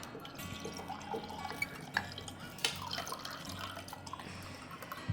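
Salty brine water is poured off fermenting vegetables into a container, a soft, faint trickle with scattered drips and splashes running steadily.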